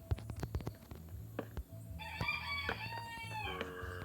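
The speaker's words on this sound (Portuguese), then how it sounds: "É meu vizinho aqui que tem uma galinha." A neighbour's rooster crows loudly and close by, a long drawn-out cock-a-doodle-doo following a few sharp clucks and knocks, with no talk over it.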